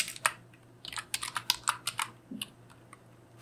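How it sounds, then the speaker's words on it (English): Keystrokes on a computer keyboard while entering a command in a terminal, a quick irregular burst of sharp clicks in uneven clusters, close and fairly quiet, with no talking. "the way we do that is by typing in"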